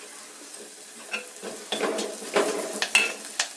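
Curry leaves hit hot oil while rasam is being made, giving bursts of crackling sizzle with scattered sharp pops and a few clinks of a utensil against the pan, close and fairly quiet.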